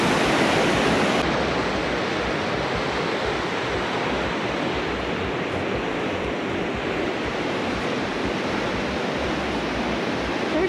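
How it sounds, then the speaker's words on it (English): Flooded Walker River in Nevada rushing past, a loud, steady broadband roar of fast water that stays constant and close throughout. "Walker River. This thing's flowing."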